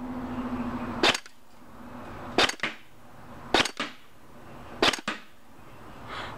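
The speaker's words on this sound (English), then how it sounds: "I'm going to do semi first so I can kind of get my bearings as to where I'm shooting" A Combat Zone Enforcer airsoft gun fires four sharp, well-spaced single shots on semi-auto, each a loud close crack with a brief rattling tail, set against a quiet background.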